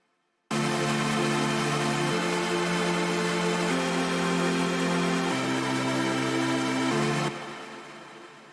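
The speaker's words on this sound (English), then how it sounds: "so we get this reverb effect" Bright sustained synth chords drenched in a Valhalla Supermassive reverb on the Lost Saucer preset in Hydra mode, changing chord every second or two, then cut off into a fading tail.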